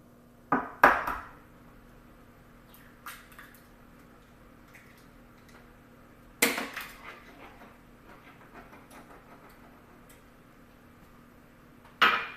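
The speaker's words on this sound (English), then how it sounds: "So I'm going to crack them into the custard cup. Put them in the bowl." Eggs are cracked on the rim of a glass custard cup and tipped into a mixing bowl, giving a few sharp taps and clinks spaced apart in an otherwise quiet kitchen with a low steady hum.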